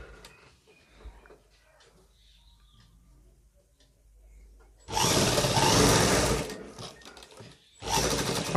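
A tailor's sewing machine stitches a back pocket onto men's trousers in two loud bursts of rapid, buzzing stitching. Quiet handling and faint clicks of cloth being arranged come before them.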